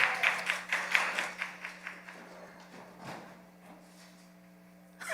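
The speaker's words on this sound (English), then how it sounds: "Let's clap him up as he comes with prayer." Audience at a youth and college gathering applauds a leader coming up to pray, a burst of many hands clapping that is loudest at first and then thins into scattered claps before fading.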